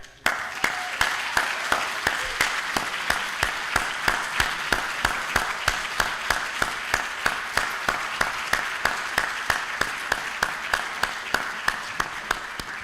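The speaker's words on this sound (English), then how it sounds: "Give them a big applause again" An auditorium audience at a closing ceremony applauds, with distinct sharp claps repeating at a fairly regular beat over a softer bed of scattered clapping, keeping an even level from start to finish.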